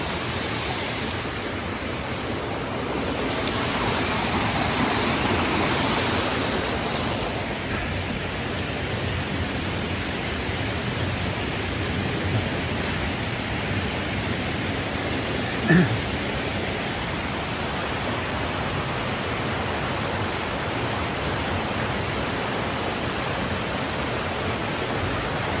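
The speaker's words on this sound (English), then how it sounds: "Water underneath the bridge." Water flows beneath a bridge in a continuous, full rushing hiss that holds steady throughout, with one brief sharp click partway through and no speech.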